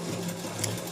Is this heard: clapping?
no